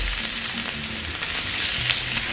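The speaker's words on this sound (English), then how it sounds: "we'll just fry enough to brown the outside until it finishes cooking in the paella" Pork pieces fry for paella, a loud, close, continuous sizzle and crackle of hot oil with no voices over it.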